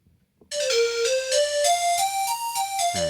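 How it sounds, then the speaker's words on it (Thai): Casio CTK-571 budget keyboard playing its pan flute voice: a breathy, flute-like melody of sustained single notes stepping up and down, clear and close, with no talking. "เสียงแพนฟลุตอย่างเช่นศูนย์เจ็ดห้าสิครับ"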